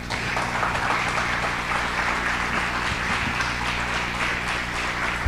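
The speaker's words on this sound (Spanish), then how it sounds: "La recibimos con un aplauso." An audience applauds steadily to welcome a special guest, Claudia, onto the stage at a gathering, a dense, even wash of clapping that holds at moderate level throughout with no talk over it.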